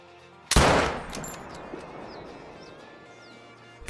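A hunting rifle fires at a mouflon ram in the Call of the Wild hunting game, giving one loud, sharp crack that rings out and decays over a couple of seconds amid faint outdoor ambience.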